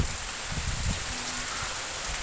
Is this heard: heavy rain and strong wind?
yes